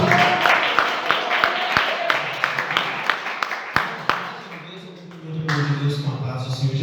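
Church congregation at a Sunday service clapping in a loose rhythm, sharp distinct claps scattered over several seconds, then fading as a voice begins speaking.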